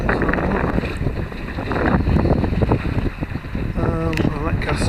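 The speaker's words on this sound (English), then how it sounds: "Well, that gust has passed." A wind gust buffets the microphone aboard a reefed Rob Roy 23 sailboat on Lake Murray, South Carolina, with loud, continuous rushing and rumbling, and someone talks briefly over it.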